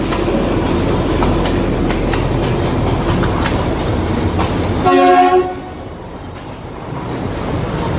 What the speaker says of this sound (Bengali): এই দার্জিলিংয়ে টয় ট্রেন এক রোমাঞ্চকর দৃশ্য।